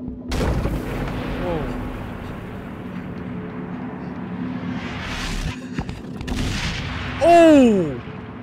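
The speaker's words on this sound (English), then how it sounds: "Definitely like bomb or something." Deep booms and blasts from bombs going off in the video game Inside, with a loud rumbling burst near the end and a voice exclaiming between them.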